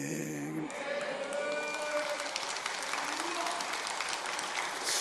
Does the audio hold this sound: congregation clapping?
yes